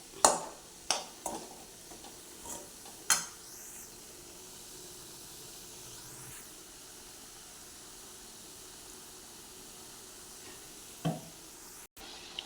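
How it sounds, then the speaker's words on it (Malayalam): Fried squid goes into a pan of sizzling coconut oil and masala; a few sharp clatters at the start give way to a steady, quiet hiss of frying. "അതിന് ശേഷം കുറച്ചും കൂടി വെളിച്ചെണ്ണ ഒഴിച്ചിട്ട് നമുക്ക് ഫ്രൈ ചെയ്ത കൂന്തൽ ഇതിലേക്ക് ഇട്ട് കൊടുക്കാം"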